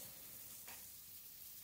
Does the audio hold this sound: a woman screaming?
no